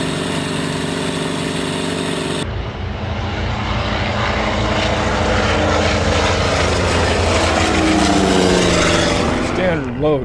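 A Korean War-era Skyraider propeller aircraft engine from inside the cockpit, a loud, dense droning roar that opens with a steady hum and then swells into a heavier rumbling surge.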